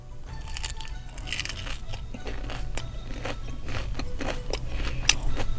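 Crunchy bites into deep-fried, batter-coated fried rice, a series of sharp crackling crunches and chewing sounds close to the mic over a low background hum.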